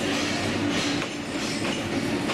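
A train rolls into Pyin Oo Lwin railway station in Myanmar, a steady close rumble of wheels and railcars with faint clickety-clack and no voices.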